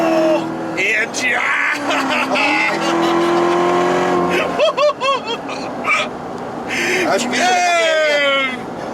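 A 2019 Chevrolet Corvette Z06 V8 revving hard, with loud rising and falling engine howls and sharp gear-change blips, while excited voices talk over it.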